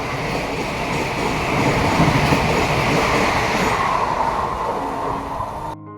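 A train passes close by on a rural Bengal line near Dhaniakhali, a loud continuous rumble and rattle of wagons that holds steady before cutting off abruptly.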